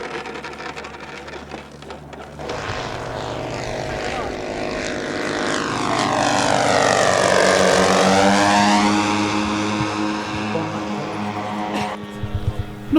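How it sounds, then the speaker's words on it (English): A radio-controlled Hellcat warbird model in three-tone blue Pacific colours comes in for a crosswind landing, its propeller engine droning steadily and rising to a loud, close pass with a sweeping pitch change before fading. "The Hellcat, finished in the three-tone blue Pacific colours, chooses a crosswind landing."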